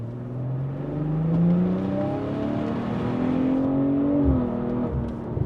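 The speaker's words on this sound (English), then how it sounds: "Let's see how the car sounds there." A B58-engined car with a downpipe and tune accelerates on a highway, its exhaust droning loudly and rising in pitch through gear changes, alone without talk.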